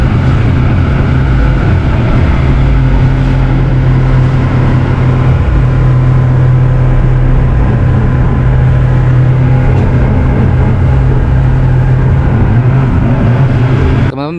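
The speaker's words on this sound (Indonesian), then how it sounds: "ada suara mesin dihidupkan karena coba dihidupkan oleh si kakak kru di belakang ini" A loud speedboat outboard motor, being restarted at sea near Komodo Island after stalling, drones steadily and close by, a deep rumbling hum that holds constant throughout without pauses or talk.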